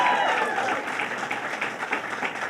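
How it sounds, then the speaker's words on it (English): A crowd at a political rally for reproductive rights in New Hyde Park breaks into applause, dense steady clapping with a few cheers, fairly close and continuous for a few seconds. "Let's give yourselves a round of applause."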